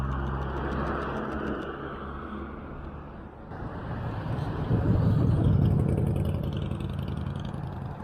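A BMW drives past on an Abu Dhabi street, its engine note rising and swelling to a loud, close peak midway before easing off, with traffic noise steady underneath.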